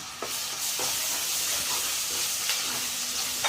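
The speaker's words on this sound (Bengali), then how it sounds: "আদা রসুন বাটাটা একটু ভালো করে কষিয়ে নিব তাহলে কাঁচা স্মেলটা চলে যাবে" Ginger garlic paste fries with chopped onions in a karahi for a chicken roast, producing a steady hissing sizzle with scattered scraping stir clicks, close and alone.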